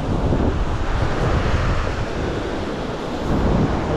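Strong ocean waves surge against a rocky shore at low tide where anglers cast, a loud, continuous roar of surf mixed with heavy wind buffeting the microphone, and no voices.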